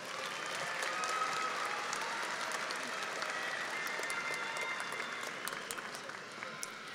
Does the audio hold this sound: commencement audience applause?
yes